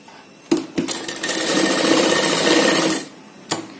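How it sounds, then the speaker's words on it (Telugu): A sewing machine stitches the lining of a ghagra dress, whirring loudly and close in one continuous run of about two and a half seconds, with clicks and knocks before it starts and after it stops. "చుట్టూ మనం పెద్ద కుట్టు పెట్టేసి జాయింట్ చేసుకోవాలి"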